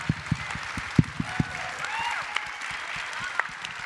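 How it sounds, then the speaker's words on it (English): Audience applause at an AFI Fest Q&A honouring an actor named Daniel: a scattered burst of claps that thins into a steady low crowd patter. "I want an applause to Daniel because he carried the play."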